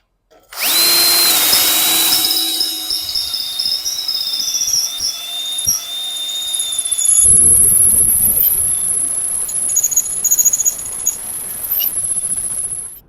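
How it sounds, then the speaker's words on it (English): A power tool grinds out the center hole of a socket to widen it, making a loud, steady high-pitched whine for several seconds before switching to a rougher, noisier grinding texture. No one talks over it. "just grinding out the hole in the center, making it a little bit wider"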